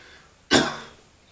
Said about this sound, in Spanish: Entonces le pedimos que vuelva a toser.